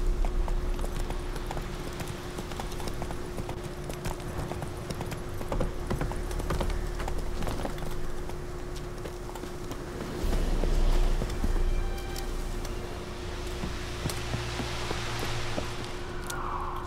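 Roach, the horse in The Witcher 3, moves with a steady clip-clop of hooves over wind and ambient game sound, with no speech.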